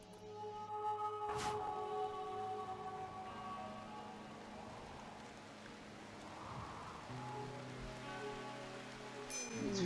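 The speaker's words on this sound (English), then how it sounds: "It's foggy rain." Foggy rain weather ambience from the video game RimWorld, a steady soft hiss of rainfall running through the whole stretch with faint game tones layered beneath, no talking.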